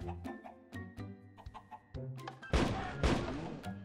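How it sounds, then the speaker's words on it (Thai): Chickens cluck in a Minecraft world running the Forever Stranded mod, a string of short close game clucks repeating unevenly, then a louder burst of noisy impact-like sounds near the end. "รอบนี้เป็นวัวกับไก่"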